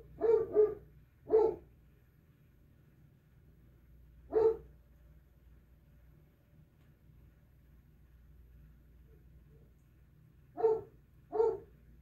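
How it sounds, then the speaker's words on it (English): Dogs bark outdoors while a large dog indoors answers, giving scattered pairs of sharp, moderately close barks separated by long quiet gaps over a faint low background hum. "the dogs outside are barking, so the big guy inside is barking"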